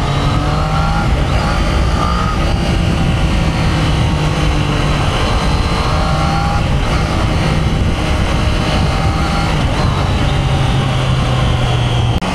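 A Triumph Daytona 660 sport bike drones loud and steady at expressway speed, the engine's hum holding constant under heavy wind roar, with slight shifts in pitch as the rider holds the throttle.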